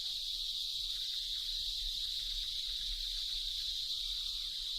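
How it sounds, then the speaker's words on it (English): Cicadas in an Indian forest produce a constant, piercing, high-pitched drone with no break, a dense chorus steady throughout and fairly distant, with no voices. "On each tree there may be hundreds of cicadas and many hundreds of thousands throughout the forest, creating a noise so loud it repels the birds"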